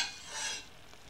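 Risotto rice being stirred in a pan, a soft, close scraping swish with faint sizzle that swells briefly then settles, with no talking.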